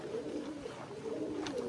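Domestic pigeons with full tails and purple feet coo softly and continuously in a home loft for a short stretch, with no talk.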